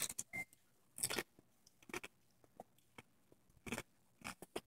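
Someone crunches and bites into Spicy Nacho Doritos tortilla chips up close, with irregular bursts of crisp crackling chews separated by short quiet pauses.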